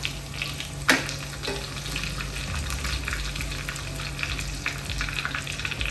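Shallots, a dried red chili and curry leaves frying in a pan for sambar: a steady, close sizzle throughout, broken by one sharp click near the start.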